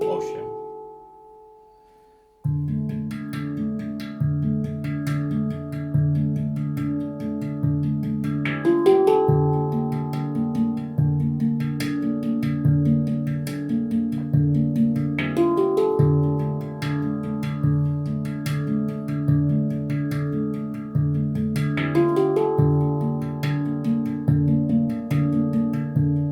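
A handpan is played in a steady groove. Struck metallic tones ring and overlap in a repeating rhythmic pattern, with short percussive taps over the sustained notes, after a brief quiet opening.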